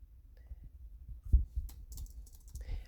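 Computer keyboard keys tapped in a sparse, irregular run of soft clicks, close and fairly quiet, with a few slightly heavier presses.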